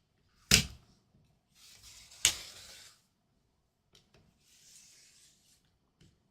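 A rotary cutter slicing through quilt fabric strips on a cutting mat: two sharp, distinct cuts a couple of seconds apart, each followed by a soft rasping slide, then faint rustling and small taps.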